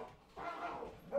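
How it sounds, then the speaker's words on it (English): Dogs barking somewhere nearby, a single faint, muffled bark or yelp rising briefly in the background. "wow, the dogs are going crazy"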